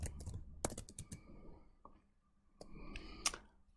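Keystrokes on a computer keyboard while entering an Excel formula, quick irregular bursts of close clicks with a pause in the middle, then another flurry, no talking.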